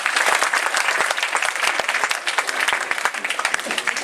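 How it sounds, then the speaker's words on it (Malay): An audience at a Ramadan lecture program breaks into loud, close applause, a thick burst of many clapping hands with slightly uneven surges over about four seconds. "Boleh ke bagi tepukan paling gemuruh untuk sahabat saya?"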